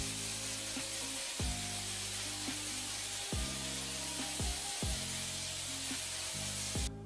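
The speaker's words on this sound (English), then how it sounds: "I'm gonna use atmosphere aerosol spray just to add a bit more volume within my light." Atmosphere aerosol fog spray hisses out in one long, steady burst during a lighting setup, a close, continuous airy rush with no talking.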